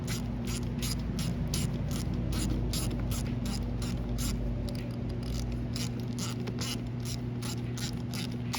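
A ratchet clicks rapidly and steadily as bolts come off the starter of a Yamaha Bruin 350 ATV, close and continuous, with a faint hum underneath.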